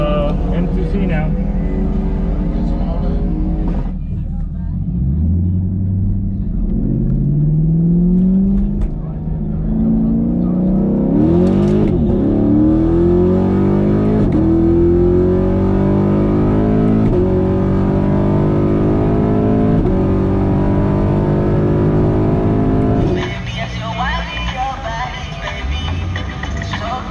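Drag race cars, a BMW against a Camaro, roar and rev through rising gear changes at close range while a commentator talks over the engines throughout.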